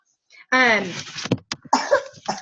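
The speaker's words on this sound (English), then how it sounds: "my man's coughing still" A man coughs hard once near the start, then a few short rough bursts follow, close and fairly loud.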